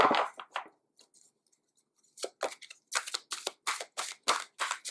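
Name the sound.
shuffling tarot cards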